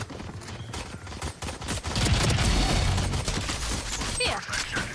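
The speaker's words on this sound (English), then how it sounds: "I'm just running and gunning with a stinger." A Stinger submachine gun fires in the Valorant video game, unleashing dense rapid bursts of gunfire that grow loud and continuous partway through, layered with in-game effects and clatter.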